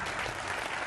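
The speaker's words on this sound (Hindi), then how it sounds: "तालियों के साथ बहुत बहुत स्वागत खास मेहमानों का।" A television debate studio audience claps to welcome guests, a dense burst of applause that stays even and fairly faint through its brief length.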